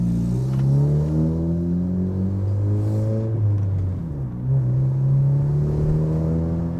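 A catless 10th-generation Honda Civic Si accelerates with a loud, raspy exhaust drone that climbs in pitch, drops at a gear change, then rises again, heard close up from inside the car.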